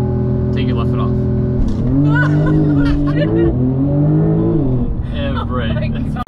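A Porsche 911 Turbo pulls away hard on a race track, its engine note climbing in pitch as it accelerates, heard from inside the cabin with laughter and chatter over it.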